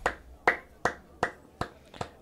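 Six crisp finger snaps given as mock applause, evenly spaced about a third of a second apart, close and clear against a quiet background.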